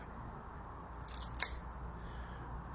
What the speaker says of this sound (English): Forgive me while I cut the cap.